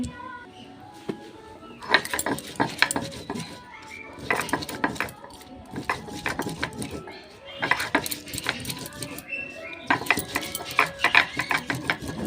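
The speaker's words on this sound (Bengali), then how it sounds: "মশলাটিকে খুব সুন্দর করে আমি বেটে নিচ্ছি" Ginger, garlic, cumin and chilli being ground into a spice paste on a steel grinder, with repeated bursts of scraping, clattering strokes in a steady working rhythm, fairly close and moderately loud.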